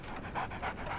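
A dog in the video game Sherlock Holmes Awakened pants close by in quick, breathy, rhythmic bursts, about three pants in a second, with no other sound.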